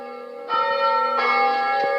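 A church bell rings out nearby, sustained and resonant, with a second stroke swelling the tone partway through and the hum lingering between strikes.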